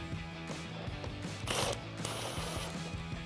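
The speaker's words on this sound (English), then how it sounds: "we can pop an 8mm socket onto our impact wrench, or if you're using a ratchet, and then we can loosen up the two clamps" A ratchet fitted with an 8mm socket loosens the intake tube clamps on a Jeep Wrangler JL, giving a close run of quick, rapid clicks with a short louder burst midway and no voices.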